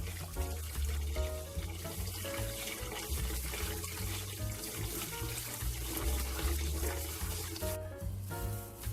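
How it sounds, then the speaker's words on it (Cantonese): Hot water runs from an ordinary hot tap as tofu puffs are rinsed in a sink, a steady wash of water beneath music playing throughout. "呢個豆腐泡咧要俾啲熱水洗一洗，咁我就用普通嘅熱水喉嘅啫"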